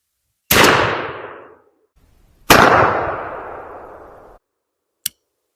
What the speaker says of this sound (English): So let's fire one down through there and see what we get.